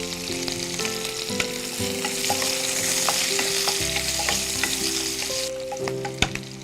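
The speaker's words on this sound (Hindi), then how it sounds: "अब इसमें हम डालेंगे प्याज और उसे भी लाल करके बाहर निकाल लेंगे।" Onions frying in a hot pan for a basmati rice dish, a steady dense sizzle with occasional stirring clinks and scrapes throughout, close and continuous with no talking.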